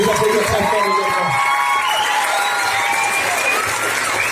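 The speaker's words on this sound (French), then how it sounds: "On peut les applaudir très fort également." Audience at an evening hypnosis show applauding loudly, with cheering, whoops and excited shouts over the clapping, continuous and close throughout.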